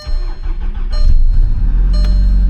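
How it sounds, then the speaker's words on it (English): Car engine cold-started before driving at Laguna Seca Raceway, a short crank catching into a loud, rough low rumble that holds steady and close. "let's go ahead and get a cold start on this."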